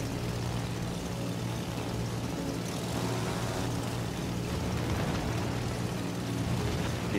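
Carrier aircraft droning overhead in the naval video game World of Warships Legends, a steady propeller hum that holds loud and even throughout with no breaks.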